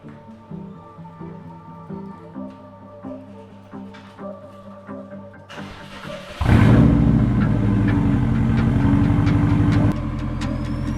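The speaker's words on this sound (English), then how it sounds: "The first thing I'm going to do is move this car out" Car engine started up in a garage as the car is moved out, with some clicking and rattling before a sudden loud low rumble of the engine that settles into a steady close idle; no talking.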